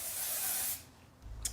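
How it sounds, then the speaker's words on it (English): A steady hiss of hair fiber spray from an aerosol can mist onto the crown of thinning hair, one continuous close burst lasting under a second, followed by a quick short puff. "So maybe I'll spray a little more just in that area."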